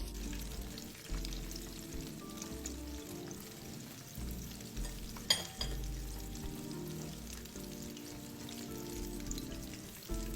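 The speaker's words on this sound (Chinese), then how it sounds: "然后放入油锅内，油炸至金黄色即可。" Pork rolls deep-frying in hot oil give a steady, close bubbling sizzle that runs throughout, with a brief sharp clatter midway and no voices.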